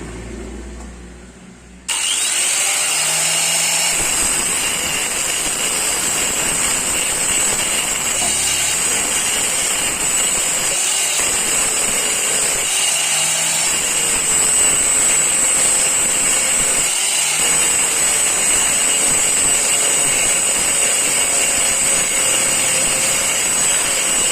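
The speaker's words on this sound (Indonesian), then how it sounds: "Untuk mengatasinya kita harus perlu gurinda." A loud, continuous high-pitched whine from an angle grinder working on a Yamaha Mio scooter starts abruptly after a brief quiet moment and runs steadily close by with slight dips.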